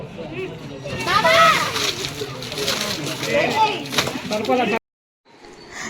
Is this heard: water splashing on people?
yes